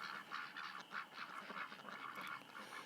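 Male ducks back from a swamp give repeated honking calls at dusk, a steady run of overlapping nasal honks heard at moderate distance with no talk.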